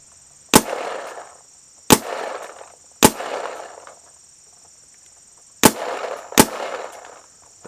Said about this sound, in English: The shot is like any other G-Tech. Great feeling shot. Very smooth. Definitely seems just a tad louder than the DSR.